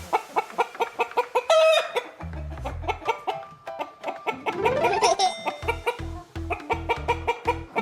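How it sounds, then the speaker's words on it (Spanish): A hen clucks steadily in a rhythmic run of short, close calls, with a rising, drawn-out squawk in the middle, all loud and alone over a bouncy musical backing. "Esta es una gallina."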